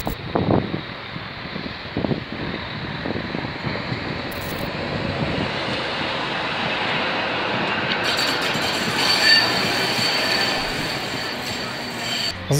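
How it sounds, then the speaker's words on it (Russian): A brown tram rolls along rails in Budapest, with clattering wheel rhythm early on giving way to a steady rumbling run and squealing wheels, close and fairly loud. "Посмотрим видео с трамваем."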